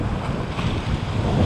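Strong wind and waves while sea fishing at the shore make a steady, loud rush of wind noise and surf with no talking.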